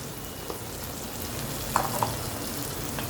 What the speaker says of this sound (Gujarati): થોડી લસણની ચટણી, સરખું હલાવી નાખીએ।